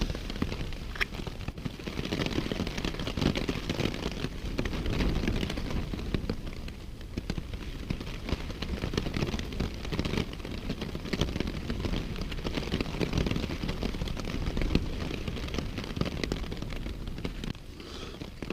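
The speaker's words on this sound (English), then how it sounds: "it's morning and it's still raining. It's still windy." Morning rain and gusting wind at a backpacking camp, heard as dense crackling patter on a nearby surface with irregular bursts and low buffeting rumbles, continuous throughout.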